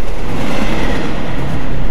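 A monstrous Thomas-style train rushes past in a video game, a loud, continuous low rumble and roar filling the short moment without any speech.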